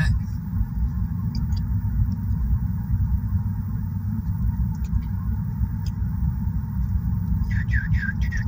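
A truck is driven and parked in Western New York, with a low, steady engine rumble close by and a few faint squeaks near the end, while a person talks over it.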